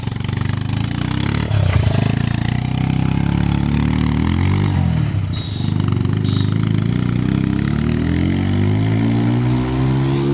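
A tractor engine drones loudly and close, pitch climbing steadily as it accelerates and races past at high speed, with a brief dip midway and no talking.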